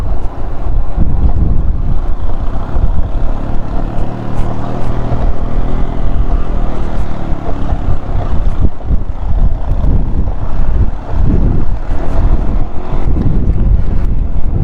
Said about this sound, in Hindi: पहले गियर में तो इंजन इतना शोर करना शुरू हो जाता है भाई।